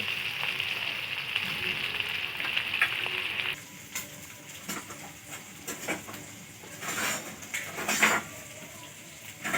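Small tora fish frying in a pan, a dense crackling sizzle that drops to softer, patchy spitting partway through, with occasional utensil clinks close by.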